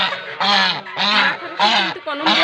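A goose honks at close range, giving four loud, harsh nasal calls in a steady rhythm with short gaps between them.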